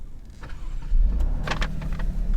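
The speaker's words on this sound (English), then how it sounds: "I'm going to start the car." A European car's engine turns over and starts, a low rumble swelling to a steady close idle with a few brief higher mechanical whirs on top.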